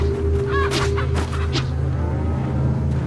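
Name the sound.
chicken clucking in the video game Resident Evil 4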